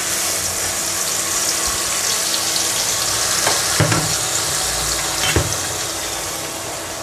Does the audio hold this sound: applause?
no